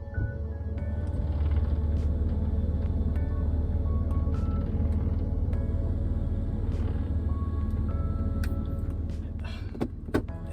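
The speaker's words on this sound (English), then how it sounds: "just the doors rubbing against the molding" Constant road rumble fills the cabin of a BMW F80 M3 driving at low speed, with faint creaks and rubbing from the doors against their molding and a few sharp ticks near the end.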